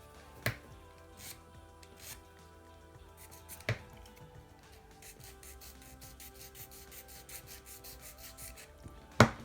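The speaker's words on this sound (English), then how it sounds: "Just file the edges so that there's no jaggedy bits." A hand file works the edges of a small, soft metal part in quick, light, repeated rasping strokes. The strokes fall in an uneven rhythm, close up, with a few sharper taps between them.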